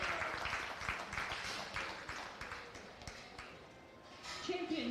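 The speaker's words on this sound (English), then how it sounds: "Let's give them a big round of applause" Audience applause at the Montgomery County Fair sheep show: a steady patter of clapping from a crowd in an arena, holding fairly even throughout with scattered louder claps and some voices and background noise mixed in.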